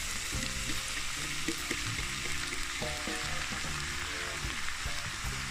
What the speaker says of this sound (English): And now I'm gonna add my callaloo.